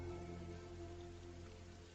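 Steady rain falls on a surface in a close, even wash of patter, with dense droplet texture and no voices.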